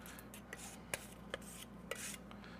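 Spackle is stirred in a small container with a few faint scraping and rubbing strokes and three light taps, close and quiet, with no talk.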